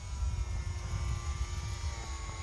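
A Hobbyzone Champ S+ RC airplane flies overhead with a steady, faint electric motor drone and propeller buzz, and a low rumble of wind underneath.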